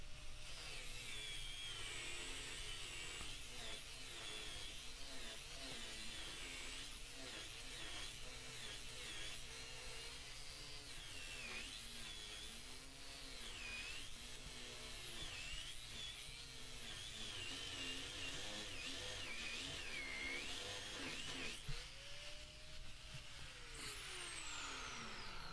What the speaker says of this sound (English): I can't make that curved cut with this angle grinder. So I'm going to cut it all away